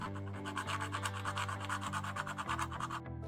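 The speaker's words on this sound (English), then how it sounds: "I had to file them down by hand." Brass pins on a knife are filed down by hand, giving a close, quiet rasping of quick, regular back-and-forth strokes that stops near the end.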